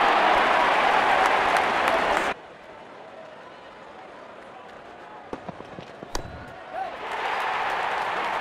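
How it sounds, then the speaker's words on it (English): A large cricket match crowd roars loudly after a six, falls into a quieter murmur with scattered claps and thuds, then swells again into cheering. "Shouts of catch it, but nobody will."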